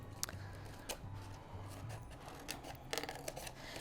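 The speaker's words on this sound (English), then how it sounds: "we're just going to cut a straight line like that" Scissors cut a straight line through a paper plate in a quiet room, with a series of soft snips and scraping rubs close by.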